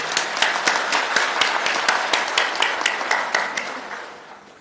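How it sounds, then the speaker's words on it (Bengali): A crowd applauds the police at a public address by Chief Adviser Dr. Yunus, a dense, steady patter of many hands clapping that gradually fades toward the end. "সবাই মিলে আপনার জোরে হাততালি"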